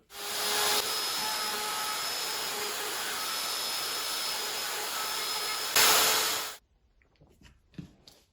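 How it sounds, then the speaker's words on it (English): A handheld router screams as it cuts through thin material to open a P90 pickup cavity on a Fender Stratocaster, a loud continuous whine that surges briefly before stopping, followed by faint knocks and handling sounds. "so I'll start with the router through that hole and move it from there around"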